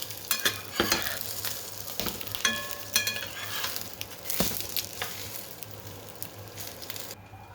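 Breakfast in a pan with egg spread over the top, frying with a steady sizzle while a utensil scrapes and turns it, sharp clacks and scrapes scattered through the first half, no talking.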